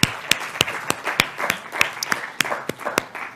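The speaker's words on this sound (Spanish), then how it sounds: "Un aplauso, ¿no es cierto?, para Salomé." A small group applauds a speaker at an education seminar panel, with distinct, moderately loud claps in a fairly regular rhythm over a few seconds.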